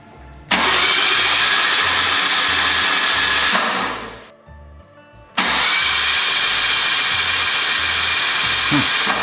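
Starter cranks the BMW R65LS motorcycle engine in two long loud bursts, a fast, even churning whir with a pulsing low beat, broken by a short pause before cranking resumes, close up.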